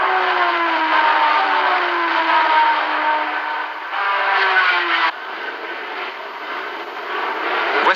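Porsche race cars at the 1971 Le Mans 24 Hours, loud engines roaring past one after another, with pitch sweeps as each car passes close by.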